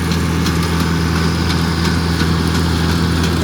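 A newer John Deere tractor hitched to a 1950s New Idea manure spreader, its engine running at a steady idle, a continuous low droning rumble up close with no talking.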